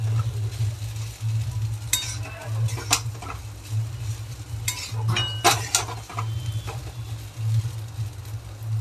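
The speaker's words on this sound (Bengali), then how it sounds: "এবার আমি মিক্সড করে দেবো পাস্তা মশলাটাকে" Bengali-style pasta and pasta masala are stirred in a pan, with repeated sharp scraping strokes of a spoon against metal over a steady low sizzle, close and clear, without talk.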